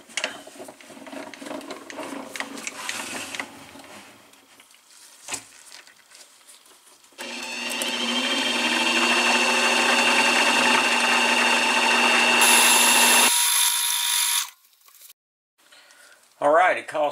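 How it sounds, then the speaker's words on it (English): A milling machine center-drilling a steel linear rail, a sustained loud whirring cut lasting several seconds after quieter shop sounds, ending abruptly as the spindle stops. "Now I'm going to come back and I'm going to center drill it."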